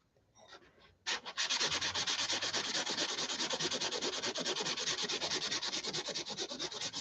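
Steady, loud rubbing of sandpaper across a Tucker XL wing under repair, starting after a brief quieter scrape and continuing as a dense, even stroke pattern with no talking.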